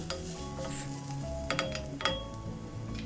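A spoon stirs kasuri methi through spiced potato samosa filling in a pan, with a steady soft scraping bed and a few sharper clinks of metal against the pan.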